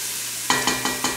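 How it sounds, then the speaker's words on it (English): Onions cooking in a hot pan for Tuscan chicken soup, a soft sizzle that gives way to four evenly spaced scraping stirs, near and clear with no speech. "If you've got a nice hot pan, it's not going to take too long to get these onions going."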